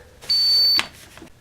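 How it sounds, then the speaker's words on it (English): A single sustained electronic beep from a stud finder, high and steady for about half a second, followed by a faint click. "when it beeps right above the place where you want to hang it"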